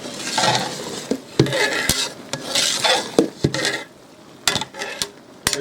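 A spoon scraping and clanking against a pot while vegetables for aviyal, including carrot, are stirred, with irregular sharp metal knocks between softer swishing scrapes, up close and without talk.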